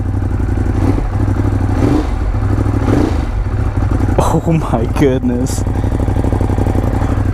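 A stock-exhaust 2016 Ducati Monster 821 idles loud and close with a throbbing low rumble, then revs sharply a few times in quick rising bursts, with a person speaking briefly over it.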